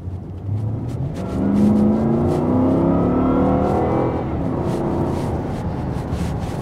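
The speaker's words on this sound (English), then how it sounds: "We just put our foot down here about 20 miles an hour." A 2007 Volvo S80 with the 4.4 V8, accelerating hard from around 20 mph: a loud, steady engine roar whose pitch climbs smoothly for several seconds, then eases, heard from inside the car with no talking.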